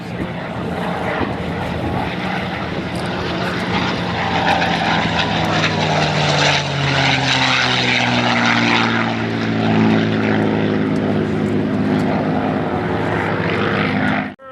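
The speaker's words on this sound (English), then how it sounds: "Scooter Yoak, Quicksilver P-51 Photo Pass" A P-51 Mustang propeller plane roars past close by at an airshow photo pass, its engine drone rising and then sliding down in pitch as it passes and recedes.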